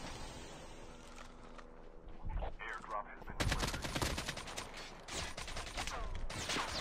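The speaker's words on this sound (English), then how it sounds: "someone's taking shots." Gunfire in a battle royale video game: a few sharp shots early, then dense bursts of rapid fire cracking out in quick succession, with a faint voice in the background.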